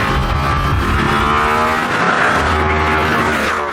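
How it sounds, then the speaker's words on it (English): A new Aston Martin V8 Vantage sports car engine drones loudly and steadily up close, a dense continuous roar with no voices over it. "Obviously, this is the big one, the new Aston Martin V8 Vantage."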